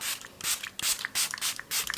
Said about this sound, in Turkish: yüzümü biraz ıslatmak için yine makyaj spreyi kullanacağım